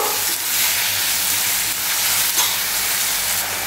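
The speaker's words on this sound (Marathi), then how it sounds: "तर आता आपण टोमॅटो नरम होईल तर हे परतून घेऊया सर्व।" Tomatoes with salt sautéing in a pan for a cauliflower and pea bhaji, a loud, steady close-up sizzle with a faint stirring scrape and no talk.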